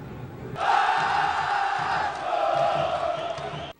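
A Vasco football crowd roars at São Januário during a 2003 Brasileirão match against Criciúma, a loud sustained mass of voices swelling from the start and holding steady for several seconds.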